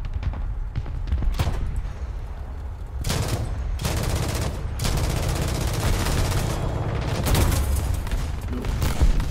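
Tank cannon fire in the video game War Thunder, with repeated loud booming shots and bursts of gunfire over a constant rumbling battle background, no talking.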